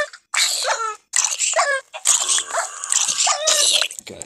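A pet wolf-dog in Minecraft battles a zombie, giving repeated sharp in-game barks, growls and bite-like crunches in quick bursts with brief gaps between them, loud and close.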